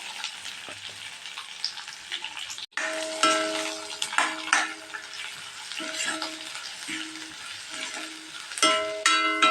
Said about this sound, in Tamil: ஒரு பெரிய வெங்காயத்தை நல்லா பொடியாக நறுக்கி சேர்த்துக்கலாங்க.